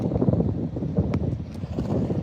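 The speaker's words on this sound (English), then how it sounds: "The wind is blowing so hard" Strong gusts buffet a phone microphone outdoors, producing a loud, constant low rumble that swells and dips without pause.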